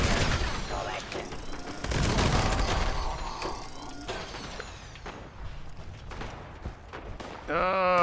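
A video game firefight with rapid bursts of gunfire and mechanical clatter throughout, loud and dense, while a person talks over it.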